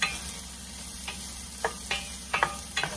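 Onions and garlic sautéing in hot cooking oil for mixed vegetables with pork, a continuous close sizzle broken by several sharp crackling pops and spatters, with no voice.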